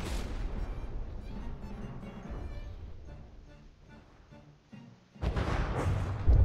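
Gunfire and shell hits boom and rumble in a naval battle in the video game From the Depths, a dense barrage that fades, then a sharp loud burst of impacts toward the end.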